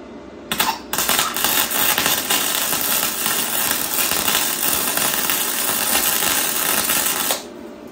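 An electric welder works steel, giving a continuous harsh crackling buzz that starts abruptly just after the half-second mark, runs steadily for about seven seconds, then cuts off, with a sharp click near the start.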